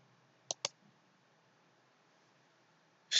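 Sharp computer mouse clicks during a Windows 10 virtual machine setup: a quick close pair early on, a long quiet stretch, then one more click at the very end, close and crisp.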